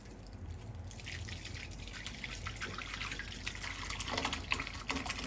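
Curdled milk being poured slowly through a cotton cloth, with soft close trickling and irregular dripping of whey, faint and steady, with no talk.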